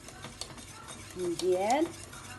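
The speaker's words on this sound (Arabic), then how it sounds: "دابا عاود رديتها فوق النار وغادي نبقى نحرك مزيان باش ما تلصق لينا والو" A spoon stirs white cheese sauce in a pan over the heat for pasta, giving soft scraping and sizzling at close range, with a brief rising harmonic sound in the middle.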